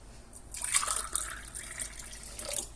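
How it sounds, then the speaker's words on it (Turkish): Water is poured onto sugar to make syrup for lokma dessert, a close splashing and trickling stream that swells and then tapers over a few seconds, with no one speaking. "Şimdi suyumuzu ilave edeceğiz."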